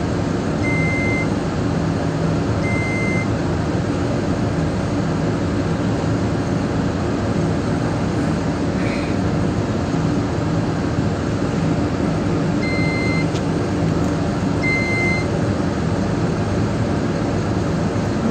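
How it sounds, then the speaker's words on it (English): On a windy pipe-rigging construction site, a wind speed monitor sounds brief alarm beeps in pairs, faint and spaced apart, against a loud, constant roar of wind and machinery. "my wind speed monitor is beating an alarm"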